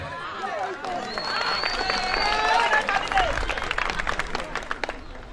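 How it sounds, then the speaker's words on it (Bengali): Applause from a crowd at an Eid reunion cultural evening, a dense wash of clapping that swells and holds, mixed with cheers and voices in the hall. "সাউন্ড হবে, তালি হবে জোরে।"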